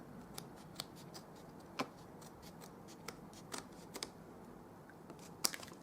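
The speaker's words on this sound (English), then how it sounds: "I'm just going to trim it with my paper snips." Paper snips trim the edge of a card base in a series of quiet, sharp crisp snips spaced irregularly, close up and alone in a still room.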